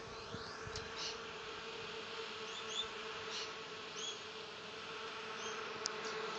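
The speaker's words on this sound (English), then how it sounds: "Again, bees are around doing everything." North Queensland native stingless bees at a wooden hive, a faint, continuous buzzing hum with small close flybys rising and fading, no talk.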